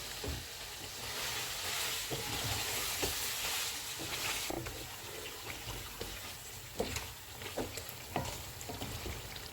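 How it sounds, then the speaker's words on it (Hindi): Fried, ground onions sauté with chicken and oil in a pan for a chicken korma, giving a steady sizzle and frying hiss with scattered scraping and stirring clicks, close and continuous. "इसमें फ्राई किए हुए और ग्राइंड किए हुए प्याज डालेंगे। इनको 1 से 2 मिनट तक भूनेंगे।"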